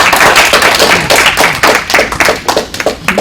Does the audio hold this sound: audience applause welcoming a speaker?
yes